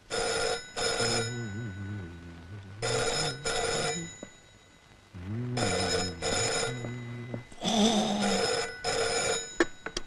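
A telephone bell rings in repeated pairs of bright, warbling rings separated by short pauses, loud and close, in a domestic comedy scene. No talk is heard.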